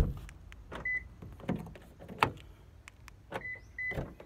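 A car's door locks actuate in a few short, faint mechanical clunks and whirs at close range, spread through an otherwise quiet stretch with soft handling noises.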